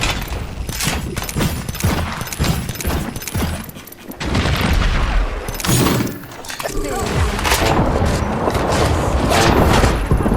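A grenade explosion bursts through a fast Apex Legends firefight, a loud boom with shattering debris over gunfire and busy game effects, while a player shouts and talks over the action.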